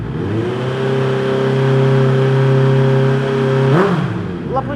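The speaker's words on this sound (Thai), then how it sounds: "เดี๋ยวฟังเสียงข้อคันนี้กัน อัตราติดง่ายครับ พร้อมเดินเบานี่กับตาเร่ง" A 2018 Honda CBR650F motorcycle fitted with a slip-on exhaust idles and then holds a steady raised rev before dropping sharply back down, loud and close, with a short blip near the end.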